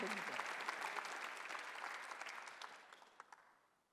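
A church congregation at a Sunday service gives a round of applause, dense clapping that starts full and gradually thins out to a few last claps as it fades.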